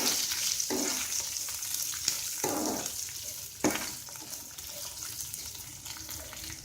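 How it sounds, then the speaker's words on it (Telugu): Onions, green chilies and curry leaves frying in oil for a potato poori curry, a steady close sizzle with a few louder bursts as the pan is stirred. "పోపు వేగిన తర్వాత ఉల్లిపాయ ముక్కలు, పచ్చిమిరపకాయ ముక్కలు, కరివేపాకు వేసుకుని దోరగా వేయించుకోవాలి."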